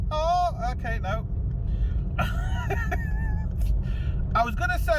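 A car engine drives in third gear, a steady low rumble running throughout beneath a voice talking over it.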